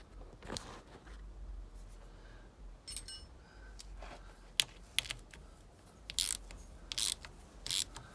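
A ratchet snugging bolts on a 2006 LTR450 ATV during a valve clearance check, with short sparse clicking bursts and scattered metallic taps, close and fairly quiet.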